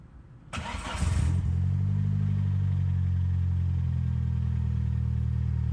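A car engine cranking and catching, then settling into a steady, loud, close idle rumble that holds to the end, no talk.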